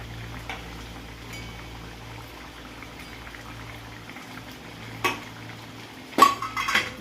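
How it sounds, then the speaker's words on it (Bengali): Parshe fish dropped into a pot of potato curry boiling on the stove, a low steady bubbling broken by a couple of sharp metallic clinks and splashes near the end. "এই আলুগুলো সিদ্ধ হয়ে গেছে, এইবার আমি এই মাছগুলোকে এর মধ্যে দিয়ে দেব।"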